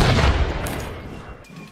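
Cannon fire in a video game battle, a deep booming blast at the start that rumbles and fades away over a second or so, with no clear talk.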